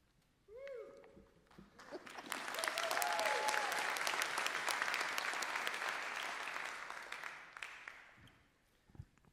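A crowd at a Republican National Committee meeting applauds, a dense wash of clapping that swells after a short lead-in, holds for several seconds and fades, heard from a distance in a large hall.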